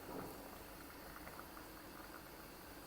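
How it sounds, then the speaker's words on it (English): Tiffin sambar, a South Indian lentil stew, boiling and bubbling steadily in a pot, a dense continuous simmering hiss with soft pops, close and fairly quiet. "Our lovely Tiffin Sambar, aromatic and bubbling away."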